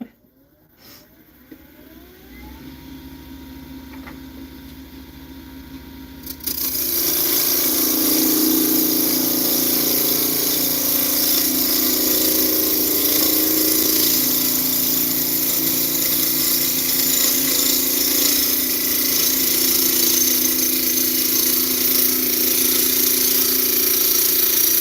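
A turned wooden piece spins on a lathe while sandpaper is pressed against it, a soft motor hum suddenly giving way to a loud, continuous hissing rasp that holds steady to the end.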